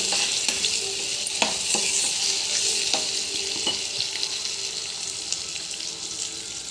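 Peppercorns, curry leaves and tomatoes fry in a pan for a moong dal pepper rasam, giving a steady hiss and sizzle with a few sharp spoon taps against the metal.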